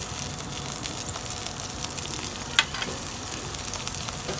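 Chopped garlic sautés in hot oil with a dense, even sizzle that holds steady throughout, close and fairly loud, broken by one brief sharp clink of a utensil.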